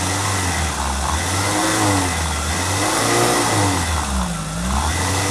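A car engine revs up and down repeatedly nearby, its pitch rising and falling in smooth swells over a continuous mechanical rumble.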